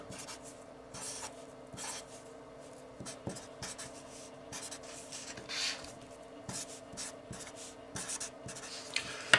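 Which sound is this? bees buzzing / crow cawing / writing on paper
writing on paper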